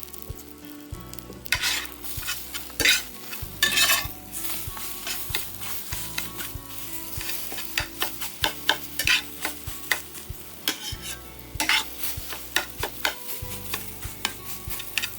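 Freeze-dried eggs seasoned with crushed red pepper, onion powder, salt, garlic powder and pepper cooking in a pan, a steady close sizzle with frequent quick scraping stirs and clicks of a utensil, no talk.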